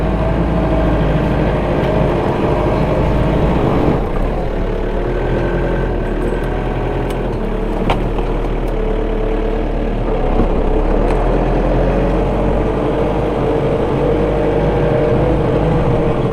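A Kioti RX7030 tractor engine runs loudly and continuously at a steady idle, with a deep low rumble throughout.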